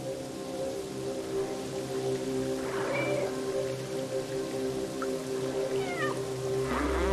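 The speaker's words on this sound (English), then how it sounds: "Meow at you a bunch?" A cat meows several times in the video game Stray, clear rising and falling calls over steady ambient game music and a rain-like background, with no talking.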